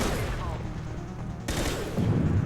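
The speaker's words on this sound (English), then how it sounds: "What the fuck are you even shooting, Zaid?" Dense, rapid gunfire from the Mass Effect 2 video game crackles continuously in a loud firefight, rising in intensity toward the end.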